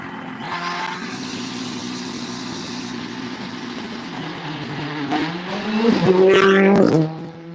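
A Citroen rally car passes on a stage of the Donegal International Rally, its engine building from a distant drone to a loud, revving peak as it goes close by, then cutting away.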